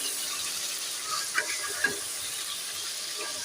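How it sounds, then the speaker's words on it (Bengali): Spice paste frying in hot oil in a home kitchen pan, a continuous loud sizzle and hiss with a couple of faint scrapes from stirring, close up and without talk. "মশলা কিন্তু আমার অলরেডি কষানো হয়ে গেছে তেল ফেলে দিতে দেখো"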